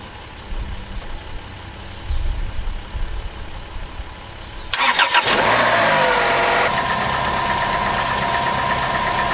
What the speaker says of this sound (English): you can now start the vehicle with the dead battery